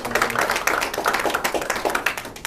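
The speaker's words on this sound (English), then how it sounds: "let's give her a big round of applause." Crowd clapping at a political endorsement rally for a Senate candidate, a steady patter of many hands filling the room at moderate loudness with no voices over it.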